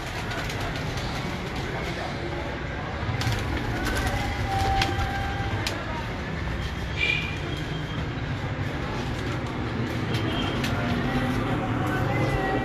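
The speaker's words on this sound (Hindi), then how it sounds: "नेक्स्ट जो है अभी टैडी कबूतरों का शौक करते हैं हम" Teddy pigeons coo on a rooftop in Kasur at a pigeon breeder's loft, soft low cooing repeated over steady outdoor background noise with faint train-like rumble and some distant voices.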